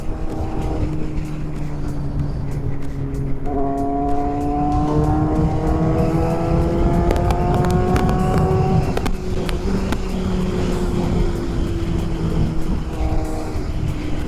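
A Kawasaki Z800 sports motorcycle engine hums steadily while riding, its pitch climbing smoothly through the revs and then dropping back. Wind noise and road rumble sit underneath, with a few sharp clicks and no speech.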